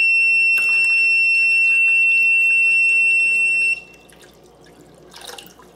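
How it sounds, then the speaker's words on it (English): Water pours into the reservoir of a hydroponic indoor garden, splashing steadily under a high electronic low-water beep that cuts out partway through, after which softer trickling and a brief splash remain. "now I am filling up the water"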